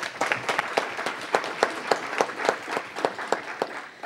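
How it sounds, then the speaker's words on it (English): Audience at a city council meeting clapping in a steady round of applause, a moderate crowd heard from a distance with no talk over it. "So everyone, please give them a round of applause again."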